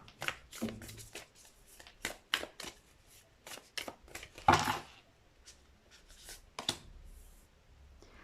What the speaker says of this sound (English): So let me give you one more card from this deck.